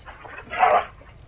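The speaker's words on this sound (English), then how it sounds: "these dogs are running around my house like they're possessed by the devil" A dog gives a single short bark or yip inside a house, mid-distance, standing out over low background noise.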